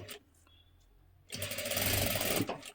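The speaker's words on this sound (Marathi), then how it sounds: "त्यासाठी पूर्ण शिलाई देऊन घ्या" A sewing machine stitching a child's jacket cut from sari fabric, quiet at first, then a loud steady whirring run of rapid stitches lasting more than a second before stopping.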